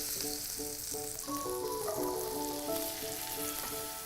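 Red onions sauté gently in a pan, cooking until soft without browning, giving a steady, quiet sizzle with occasional crackles and no voices.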